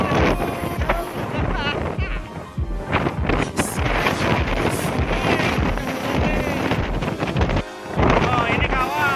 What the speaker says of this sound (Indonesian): hembusan angin cukup kencang ketika di puncaknya